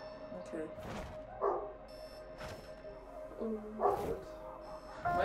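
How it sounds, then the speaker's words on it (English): A pet dog barks in the background, a handful of short barks and yips spread across the moment, fairly distant and mixed with a person's voice. "Oh, my dog's barking."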